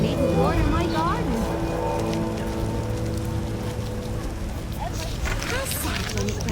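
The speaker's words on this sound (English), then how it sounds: "How sad when it rains." Steady rain falls in The Witcher video game, a continuous hiss across the whole stretch, with in-game character voices and music heard over it.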